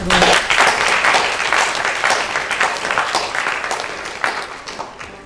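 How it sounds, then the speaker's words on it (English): Steady applause from a crowd, many hands clapping densely and continuously, fairly loud, tapering slightly toward the end. "I think you deserve a round of applause for that"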